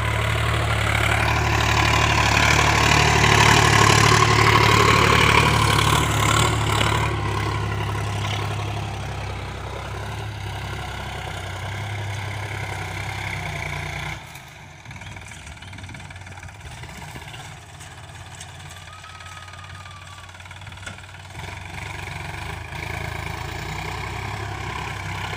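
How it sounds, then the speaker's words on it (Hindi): A Sonalika DI 35 RX tractor engine idles steadily and loudly nearby, a deep continuous rumble that eases slightly in intensity partway through without stopping. "क्योंकि ट्रैक्टर चल रहा है यहाँ पर।"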